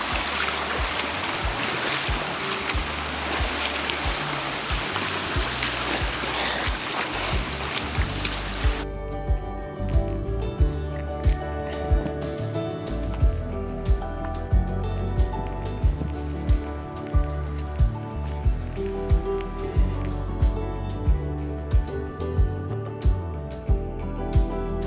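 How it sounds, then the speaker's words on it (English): Hiker on the Appalachian Trail wading straight through a stream with already-wet feet, water rushing and splashing steadily up close, a dense wash of water for the first stretch then quieter trickling with repeated footfall splashes. "I'm just walking through the damn water"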